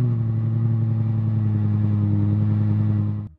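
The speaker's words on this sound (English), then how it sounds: "they also added an 8-to-1 top-mounted exhaust manifold, which creates a pretty unique high-frequency sound" A Toyota hydrogen combustion engine fitted with a top-mounted 8-to-1 exhaust manifold runs at a steady, loud, close drone with a strong low hum and buzzy overtones, then cuts off abruptly at the end.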